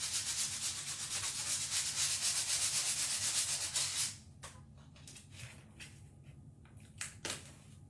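Decoupage paint is sanded off a home decor piece with fast, rhythmic back-and-forth rubbing strokes that are close and scratchy for about four seconds. After that come quieter, scattered scrapes and light taps.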